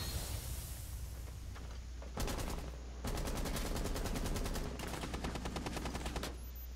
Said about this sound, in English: someone's shooting at me right now